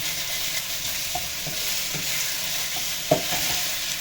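Food stirred in a hot pan while cooking, with a steady sizzle under soft scraping and tapping of a utensil, and one sharper clack near the end.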